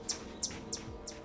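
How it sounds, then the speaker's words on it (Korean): Squirrels' high, bird-like alarm chirps in a forest, four short sharp calls evenly spaced about a third of a second apart, moderately close and clear over a quiet background. "새소리처럼 들리지만 실은 다람쥐들끼리 위험을 알리는 소리입니다"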